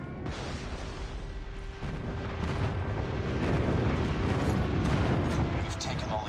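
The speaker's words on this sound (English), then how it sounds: "Friendly airstrike incoming." Airstrike explosions rumble in Call of Duty Mobile, heavy low booms that build into a dense, continuous roar of blasts, with game voice lines over the top.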